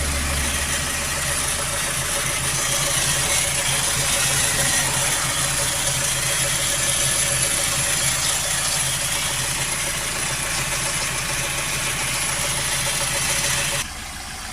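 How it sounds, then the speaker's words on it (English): A Ford Transit MK8 2.0 diesel with a blocked DPF runs with a steady, labored drone and never climbs past about 2000 RPM, loud and continuous until it cuts off near the end. "we've got this engine running, but it won't go past sort of 2000 RPM. It's really struggling"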